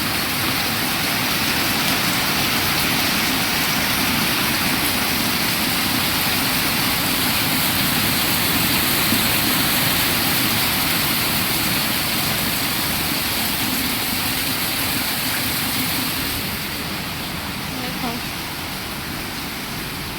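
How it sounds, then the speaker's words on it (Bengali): Heavy afternoon rain roars steadily, with water pouring from a pipe, making a dense, continuous wash of noise that eases slightly toward the end. "বৃষ্টি পড়তেই আছে, এখনো বৃষ্টি থামার নাম নাই। আর এখন বাজে 4:30। দেখো কিভাবে ওই নলটা দিয়ে পড়তেছে পানি।"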